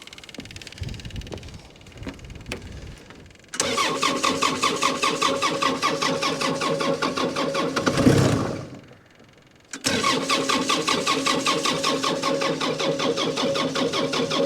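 A diesel engine on a farm fence job cranks briefly, falls quiet, then catches and settles into a loud, even rattling idle. It dips and stalls for a moment, then restarts and keeps running steadily.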